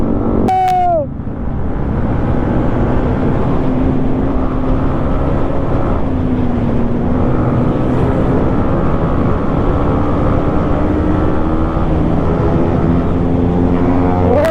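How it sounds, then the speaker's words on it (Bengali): Motorcycles on a group ride, including a Yamaha FZ250 and a V3, drone steadily across the Hasnabad bridge, with engine pitch rising and falling through a constant loud roar. "বাইকের সাউন্ডটা মারাত্মক দিচ্ছে, সালমানের বাইকের সাউন্ডটা।"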